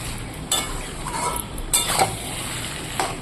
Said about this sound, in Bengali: নাড়াচাড়া করে ভালো করে একটু মিশিয়ে নিই